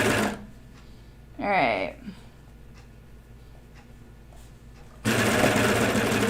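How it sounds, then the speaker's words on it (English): A serger runs while sewing a child's pajama bottoms, its steady mechanical whir loud at the start and again from five seconds on, with a brief spoken word and quieter handling in between. "So when you're doing serging, I'm looking where the knife is."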